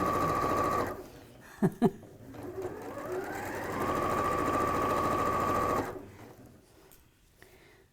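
A sewing machine stitches round fabric in steady whirring runs, stopping and starting between bursts, with someone talking briefly in between.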